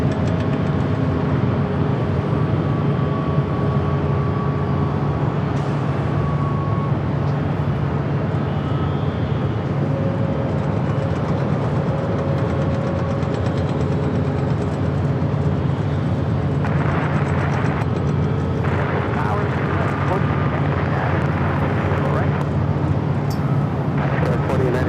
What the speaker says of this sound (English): To the Southside at Japan Airlines, the Dreamliner rolling down at 25 right.